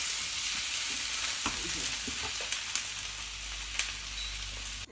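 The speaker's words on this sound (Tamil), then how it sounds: "பன்னீர் வந்து ரொம்ப ஹார்டாக ஃப்ரை ஆகணும்." Paneer frying hard in a pan, a steady sizzle at moderate volume with a few sharp clicks of a spatula against the pan, no voices.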